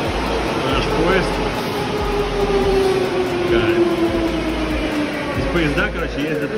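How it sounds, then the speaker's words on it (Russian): Mexico City metro train on rubber tires arriving, rumbling and whining along the track, a sustained mechanical hum with a rising-falling tone, voices chatting faintly over it. "Наш поезд."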